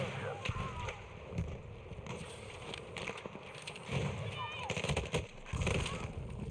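Machine gun fire in a ranked online shooter on PS5 crackles in repeated rapid bursts, some close and some distant, mixed under ongoing talk.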